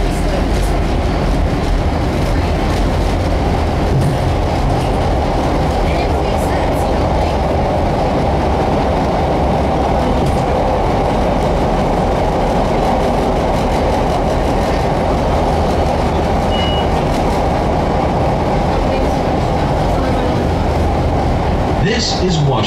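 Chicago CTA Blue Line 'L' train running at night, with a loud continuous rumble of wheels and rails and a rhythmic clatter that carries on steadily throughout, heard from inside the car.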